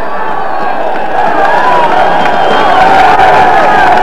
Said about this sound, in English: crowd making some noise here now